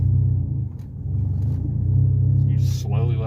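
A manual-transmission car idles with a steady low engine rumble, then pulls away gently as the clutch is eased out with a little gas, the drone swelling slightly; a person talks briefly near the end.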